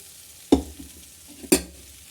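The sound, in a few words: food frying in pan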